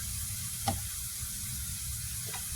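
Minced garlic sizzles in a pan for Southern collard greens, a steady close frying hiss with a couple of brief clicks or taps, no talking.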